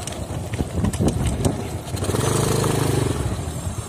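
A small motorcycle rides along a road, its engine droning steadily with a rising, sustained tone in the second half, fairly close and loud.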